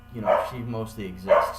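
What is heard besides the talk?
dog barking, a 5-month-old puppy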